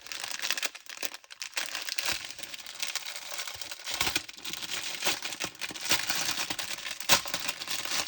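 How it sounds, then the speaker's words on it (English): Close, continuous crinkling and rustling of plastic packaging holding diamond painting drills being handled, with irregular crackles and soft crunches throughout. "So excuse the rustling."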